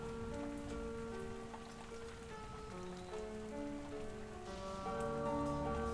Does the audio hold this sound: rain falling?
yes